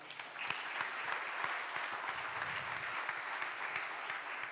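Dense, sustained applause from a church congregation honoring the Lord during a sermon, a continuous crackling wash of many hands at moderate distance, with no speech on top.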